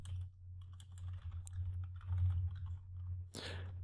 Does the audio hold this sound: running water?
no